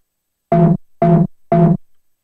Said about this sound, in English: I'm working on some synth sounds